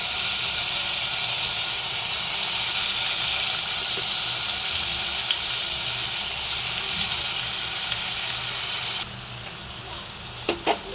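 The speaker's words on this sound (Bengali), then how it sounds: "এবারে আমি চিংড়ি মাছগুলোকে অল্প হালকা করে ভেজে নিচ্ছি।" Prawns frying lightly in hot oil give a steady, bright hiss and sizzle that runs evenly, then drops suddenly quieter, with a few sharp clinks of a new wooden spatula at the end.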